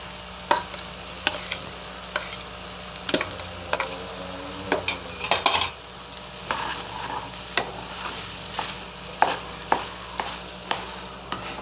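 Rice being stirred into a cooked mixture in a pan for a Tamil-style home lunch dish, giving a steady run of scraping, clinking spoon-on-pan strokes over a soft sizzle, close and fairly quiet, with no talking.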